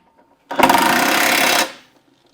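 An angle grinder cuts into metal on the chassis of a Dodge W200 Sno Commander truck. It makes a single loud, close, harsh grinding burst of about one second, with no voices over it.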